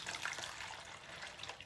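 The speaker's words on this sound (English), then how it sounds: "I'm going to pour in half a cup of my hydrogen peroxide" Hydrogen peroxide poured from a measuring cup, a soft, steady liquid trickle with faint splashing, quiet and brief.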